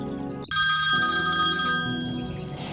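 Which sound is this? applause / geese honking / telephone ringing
telephone ringing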